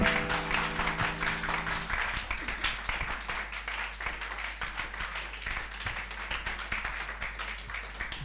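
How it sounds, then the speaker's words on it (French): Audience clapping on a French-language music show, a rhythmic, fairly soft round of hand claps over a low steady hum, with a held musical tone fading out early on. "Ça mérite des applaudissements"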